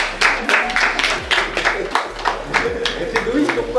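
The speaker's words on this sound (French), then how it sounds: "On applaudit quand même." Audience at an inaugural-day gathering claps along in a steady rhythm, sharp even beats close by with voices speaking over them throughout.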